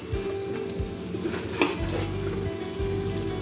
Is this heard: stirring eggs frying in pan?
yes